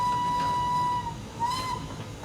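Steam locomotive whistle on an LNWR G2 engine in a train simulator game: a steady sustained blast for about a second, then a short pause and a second rising, higher-pitched toot, loud and close over a low rumbling engine background.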